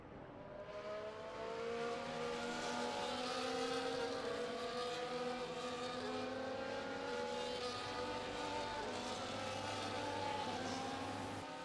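Several F1 24 race cars drive back to the grid in the video game, their engines a steady, layered high-pitched drone with overlapping revs, continuous and moderately distant, with no talking.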